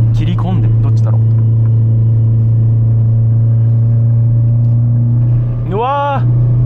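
A Subaru R2 4WD engine drones loudly and steadily while the car climbs a winding mountain pass road with hairpin curves in Saitama. A voice is briefly heard near the start and again near the end, where the pitch swells.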